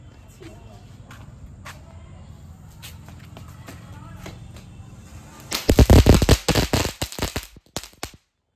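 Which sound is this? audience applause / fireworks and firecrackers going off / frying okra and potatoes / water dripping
fireworks and firecrackers going off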